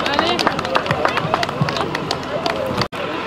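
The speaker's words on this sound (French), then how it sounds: "On peut encore les applaudir très très fort." An audience applauds after an exercise, a steady dense patter of many hands clapping at close range, with crowd voices murmuring beneath.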